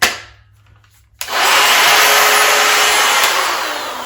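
A DEWALT drywall cutout tool starts after a brief quiet gap, then runs steadily at high speed with a loud, sustained whine that eases off slightly toward the end.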